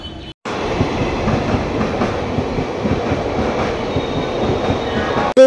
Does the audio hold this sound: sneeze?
no